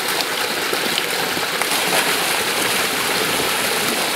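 Water gushing steadily into a 5-gallon bucket while measuring flow rate, a loud, close, continuous splashing rush with no break.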